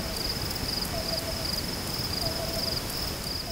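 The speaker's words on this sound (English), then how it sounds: "that is the song of a black-billed cuckoo singing into the microphone of one of our recorders" A faint, distant black-billed cuckoo call repeats softly, cuckoo-coo, over a steady high insect-like drone and background hiss, soft hollow notes coming in a pair of short phrases.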